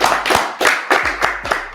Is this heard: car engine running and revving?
no